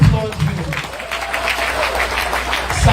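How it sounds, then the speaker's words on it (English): Audience at a commissioning event in Edo State applauding Governor Godwin Obaseki, a loud, dense burst of clapping that holds steady for a few seconds, with voices mixed in. "can you please applaud him?"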